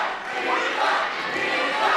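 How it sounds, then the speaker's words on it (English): A wrestling show crowd roars and cheers during a tag match, a dense, close wash of many voices that swells slightly and stays loud for the whole moment. "I listen to the crowd behind Eli"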